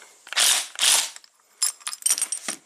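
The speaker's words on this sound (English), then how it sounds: "and a little two-jaw puller" Two-jaw puller working a bearing race off an Audi wheel hub, giving two loud, rough ratcheting grinds followed by a quicker series of short metallic clicks and scrapes, close up with no talk.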